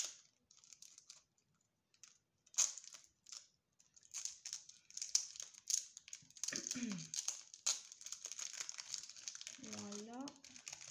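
Amazon package packaging crinkles and rustles in quick, close bursts as it is opened, with a person talking intermittently over the handling.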